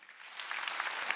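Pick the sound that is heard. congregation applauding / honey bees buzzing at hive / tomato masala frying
congregation applauding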